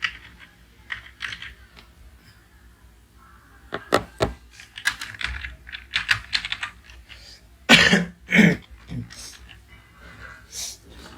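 Computer keyboard typing while writing code, heard as scattered bursts of clicky keystrokes, some sharp and close, spread across the stretch with short pauses and breathing between them.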